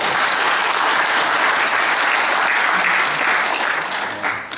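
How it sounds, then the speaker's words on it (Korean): Dense applause from an audience at a Korean memorial ceremony, steady and full for several seconds, then tapering slightly at the end, with no speech over it. "박수로 환영합니다."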